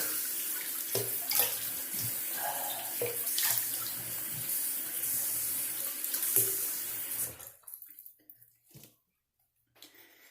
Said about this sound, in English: Let me rinse my face with cold water really quick.